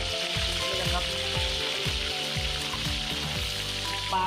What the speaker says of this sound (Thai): เนี่ยครับเดี๋ยวปลาเราก็จะทอดนะครับ